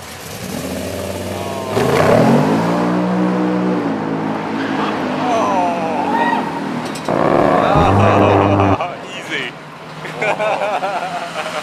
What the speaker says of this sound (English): This hot rod is boasting not one, but two V8 engines